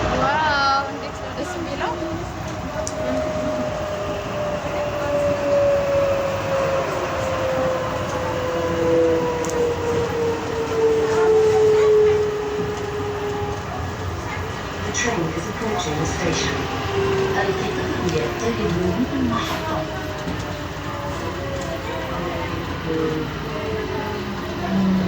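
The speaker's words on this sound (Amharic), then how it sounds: "The train is arriving. Please get ready to exit." An airport shuttle train in Ethiopia rumbles and hums at steady speed, with a long gliding whine and faint clicks, while people talk quietly over it.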